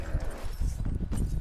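Horse hooves clop across the ground in the Battlefield 1 video game, a quick uneven run of soft thuds close by with faint game noise around them and no speech.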